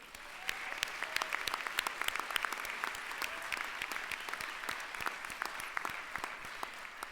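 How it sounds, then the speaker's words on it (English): An audience at a Portland Community College investiture ceremony claps for the PCC Voices of Soul Choir. The applause is dense and steady, with crisp individual claps standing out across the whole stretch and no one talking. "a round of applause to the PCC Voices of Soul Choir"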